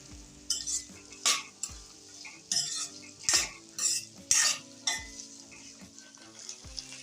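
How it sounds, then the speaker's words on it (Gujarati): Spiny gourd (kantola) pieces are stirred in hot oil, with a spoon scraping and clinking against the pan in irregular strokes over a soft, steady sizzle, close and without talk. "આપણે કંટોલાને આ રીતના મિક્સ કરી તેલમાં અને આપણે એને ધીમા ગેસે ચડવા દઈશું"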